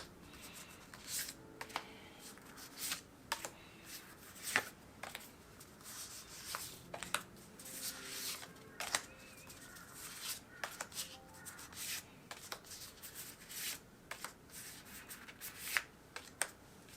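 Tarot cards are shuffled and laid out on a table for an eleven-card Celtic Cross reading. Soft rubbing and sliding are broken by crisp, irregular card snaps and taps, close and quiet.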